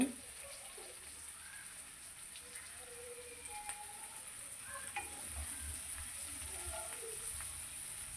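Pieces of broad beans frying in oil in a pan, with a steady, soft sizzle throughout and occasional light stirring scrapes close by.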